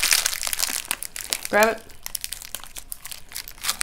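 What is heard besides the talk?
crinkling snack hard pack wrapper being opened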